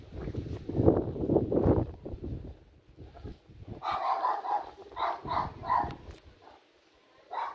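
A dog at a rural village house barks at passers-by, a series of sharp barks in short bursts, fairly close, with wind noise and some preceding human talk.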